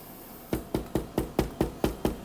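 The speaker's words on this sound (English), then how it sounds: "I'll knock on wood." Eight sharp knocks on wood, evenly spaced in a quick steady rhythm, close and crisp with no talking.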